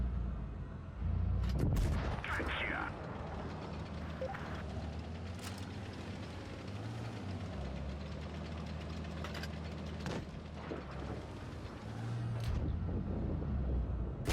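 Tank cannon fire in World of Tanks Blitz, a sharp blast near two seconds followed by lighter impacts over a low rumbling engine idle, fairly quiet overall.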